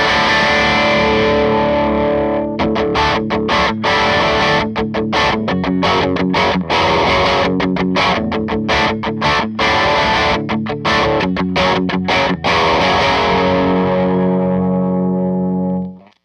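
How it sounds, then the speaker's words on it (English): High-gain electric guitar with its tone knob rolled off, played alone as loud, distorted chords and choppy riffs with frequent sharp stops over about sixteen seconds. "The first thing we're going to try is actually rolling off the tone knob on the guitar itself"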